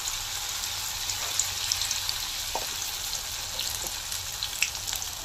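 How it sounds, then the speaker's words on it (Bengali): Helencha greens pakora frying in hot oil, a steady close sizzle with fine crackles and small pops throughout, no talking. "এইভাবে আমি একটা একটা করে সম্পূর্ণ পকোড়াটা ভেজে নেব।"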